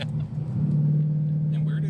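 Close, steady engine drone from a 2021 Ford Mustang 5.0 V8 with a raspy exhaust note, holding a constant low hum for the whole stretch after a brief dip near the start.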